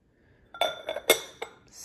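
A small decorative pot for a mantelpiece is handled, giving a few light clinks and knocks, close and fairly quiet, with no talking.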